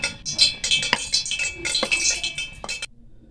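Spoon clinking and scraping against a bowl while flour and spices such as chili and salt are mixed for Korean chicken wings, several quick close taps and stirs, then silence near the end.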